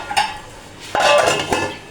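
A lid set down over a pot of mutton shorba in a home kitchen, with a few metallic clinks and one firmer clatter of metal on metal, close and fairly loud.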